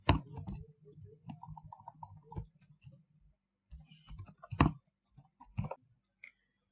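Keys clicking in short bursts and scattered taps as numbers are entered on a computer keyboard, close and fairly quiet, with brief pauses between runs of strokes.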